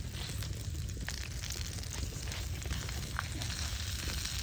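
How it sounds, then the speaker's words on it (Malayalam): Pearl spot fish wrapped in banana leaf heats in a hot pan, giving a low, steady sizzle that continues evenly throughout without a break. "നമ്മുടെ കരിമീൻ വാഴയിൽ വെച്ച് പൊതിഞ്ഞിട്ട് ചൂടാക്കാൻ വെച്ചിരിക്കും കേട്ടോ"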